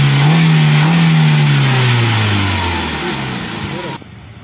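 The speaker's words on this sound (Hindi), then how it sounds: "दोस्तों यहाँ पे जो इंजन का साउंड होता है आपको दिखाता हूँ" A Hyundai i20 car engine is revved close up during a major service. It rises to a strong steady drone, then slowly winds down before cutting off abruptly near the end.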